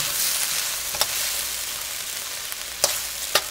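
A sauce bubbling and thickening with cooked cabbage in a pan, a continuous close hiss and sizzle with a few soft pops and clicks, no voices.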